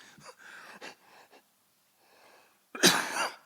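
A few soft breaths and a faint cough, followed by one sharp, loud cough up close, during a conference talk.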